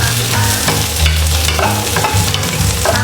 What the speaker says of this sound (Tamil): இது எல்லாத்தையுமே ஒரு வாட்டி நல்லா வதக்கி விட்டுக்கலாம்.